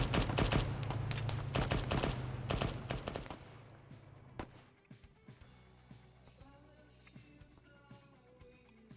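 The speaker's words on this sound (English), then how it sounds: "Another round, he's just shooting rounds out like crazy." Video game gunfire as soldiers shoot rounds: dense rapid volleys of loud shots for the first few seconds, then scattered distant pops and bangs with a voice talking over them.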